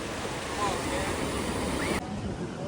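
Steady ocean surf rushes and washes at a beach, with wind buffeting the microphone throughout.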